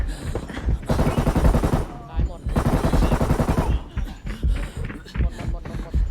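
Dense bursts of automatic gunfire in the shooter game Arena Breakout, loud rattling volleys in two long strings separated by brief gaps, followed by scattered shots and footsteps, with someone talking over the action.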